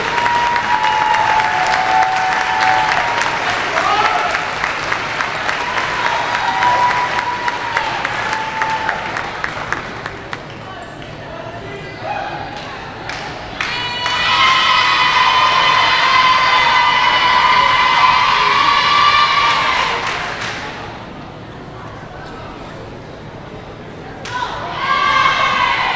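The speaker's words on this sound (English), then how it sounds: "give these ladies one more round of applause for their leadership and spectacular" A gym crowd at a women's college volleyball match in Hayes Gymnasium applauds and cheers the seniors with loud sustained clapping and shouts, which fade and then swell into a second strong round.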